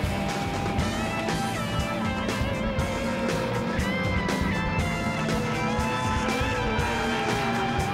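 A Suzuki GSR750 motorcycle racing on an endurance track, engine noise roaring continuously with shifting revs and passing machines mixed into dense, loud track ambience.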